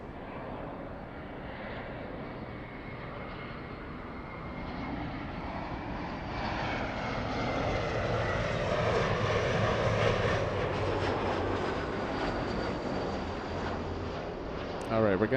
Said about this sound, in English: We are going to see A380 Emirates in about 2 to 3 minutes.